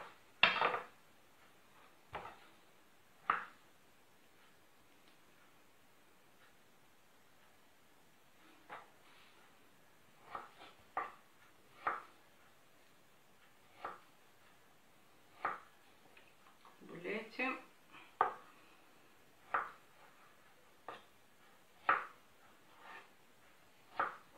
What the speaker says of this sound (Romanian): Acum vom tăia o jumătate de cartof.